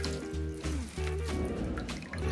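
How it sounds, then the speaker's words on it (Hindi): Fresh chhena (paneer curds) for gulab jamun being rinsed in water in a kitchen, a steady wash of splashing and trickling water running throughout with steady low hum beneath. "1 या 2 बार धोएंगे, पानी से निकालेंगे इसको पानी के साथ।"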